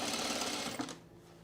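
A sewing machine stitches the seam of a pair of men's cargo shorts, running in a steady, close whir for about a second before stopping abruptly, leaving only faint room tone.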